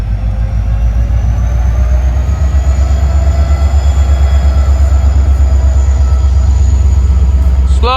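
A locomotive slug unit rumbles past at close range, a loud low drone with rhythmic wheel pulses and a faint high squeal.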